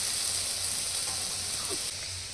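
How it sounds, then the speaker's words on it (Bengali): Cloves, cinnamon, cardamom and cumin tempering in hot oil, giving a steady, loud, close sizzle and hiss that drops slightly near the end. "তেলের মধ্যে সামান্য একটু লং, দারচিনি, এলাচ আর সামান্য একটু জিরা ফোড়ন দিয়ে দেবো।"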